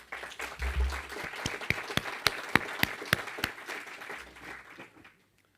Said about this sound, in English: I would like to just give a round of applause for DEKRA.